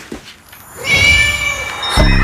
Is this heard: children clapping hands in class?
no